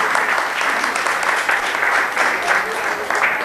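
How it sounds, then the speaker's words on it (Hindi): Loud applause from an assembled audience welcoming the club president's wife at a function, a dense continuous patter of many hands that swells slightly in waves across a few seconds. "मैं चाहूँगा कि आप सभी तालियों से उनका स्वागत करें"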